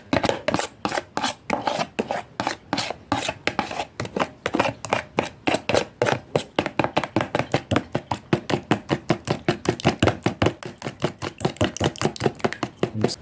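Garlic yogurt sauce being mixed briskly in a bowl with a utensil, producing a steady run of rapid, sharp knocking and scraping strokes that continue evenly throughout, close and fairly loud with no talking.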